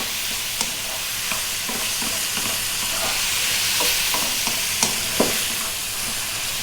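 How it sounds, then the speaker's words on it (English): Tomatoes fry in a pan with a steady broadband sizzle, while a utensil stirs them in frequent soft scraping strokes and light taps against the pan, all close and with no voices. "And once again, stirring fairly often."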